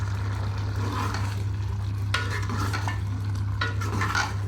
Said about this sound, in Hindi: बस इसको हम 5 मिनट और भून लेते हैं।